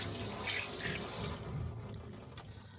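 Kitchen tap water running into a sink while pork meat is rinsed, a steady close splashing stream that thins out and fades toward the end, with a small clunk near the finish.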